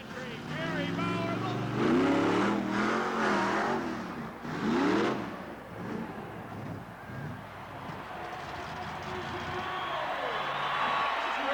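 Monster truck engines rev and roar in bursts at a 1986 monster truck event, rising and falling in pitch, with a crowd and some voices audible over the din.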